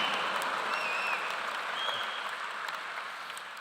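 A large commencement crowd applauds an honorary degree recipient at a university graduation ceremony, a broad, distant-sounding wash of clapping with faint whistles, slowly fading toward the end.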